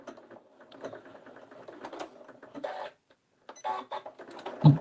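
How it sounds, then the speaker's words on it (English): A sewing machine drives a locking stitch through thick, layered scrap fabric, running in short mechanical bursts with a brief pause before it starts again, ending in a heavier thump. "I'm going to do a locking stitch again"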